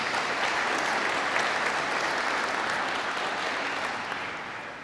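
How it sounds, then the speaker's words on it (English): Sustained applause from a commencement audience fills a large hall, dense and even from start to finish before tapering slightly at the end, with no voices over it. "Let's give them a applause."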